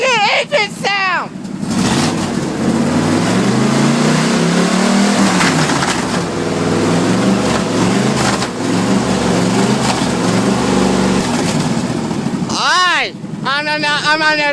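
A Jeep engine revs loudly and steadily for about ten seconds, rising and falling in pitch with wind buffeting the microphone, while voices talk just before and after.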